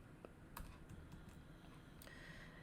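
Faint keystrokes on a computer keyboard while code is entered, a few sparse, quiet clicks over a low background hiss.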